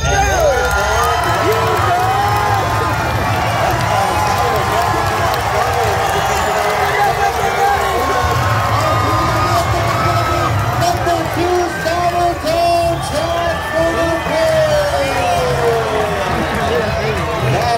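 Loud crowd at an Alaskan pig race cheers, whoops and bellows continuously as the pigs run, with an announcer's voice and babble mixed through the din.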